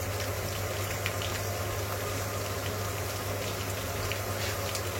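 A covered pan of rabbit with onions, shallots and a little water simmering over low heat gives a steady, soft bubbling and hiss that stays even throughout with no voices.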